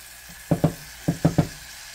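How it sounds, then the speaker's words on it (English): Garlic cloves stirred in a hot frying pan give five short sizzling, scraping bursts in two quick groups, close and fairly loud, with no talking. "stir it around a second"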